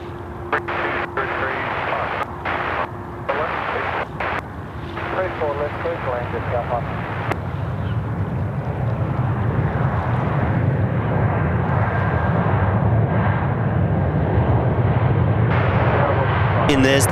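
A Jetstar Airbus A320 on flight 401 from the Gold Coast arrives at Sydney Airport, its jet roar swelling from a distant rumble into a loud, sustained drone while someone talks early on.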